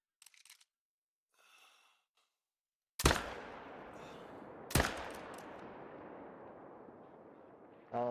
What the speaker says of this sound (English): we'll go ahead and shoot him right now